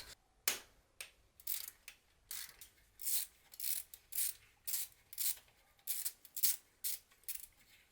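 Seized bolts on a car hose fitting working loose on a Peugeot 406, giving a long series of sharp, rhythmic cracking clicks, close and fairly quiet, much like plastic snapping.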